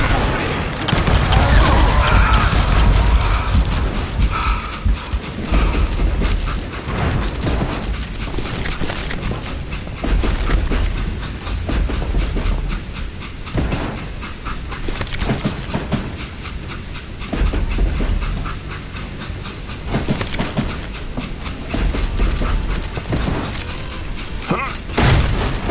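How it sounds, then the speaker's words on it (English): Train rumble and clickety-clack as an express car is uncoupled from a moving train in the Western shooter game Call of Juarez: Gunslinger, a loud, continuous mechanical roar with clanks throughout, mixed with game music and effects. "It was then that Jesse detached the express car from the rest of the damn train"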